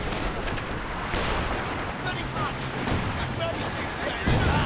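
Dense rapid gunfire from a strafing run in Company of Heroes 2, a steady loud crackling barrage with continuous battle noise, with a sharper burst near the end.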